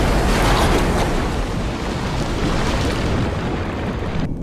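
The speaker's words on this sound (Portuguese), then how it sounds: "tudo explodiu e foi pelos ares" A big explosion from the animated film Chicken Run 2, a dense, loud roaring blast that rumbles on for several seconds and fills the whole sound with no voices.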